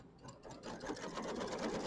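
A sewing machine stitching a placement line for quilt fabric, running steadily and quietly with a soft, even mechanical whir and a fast stitching rhythm.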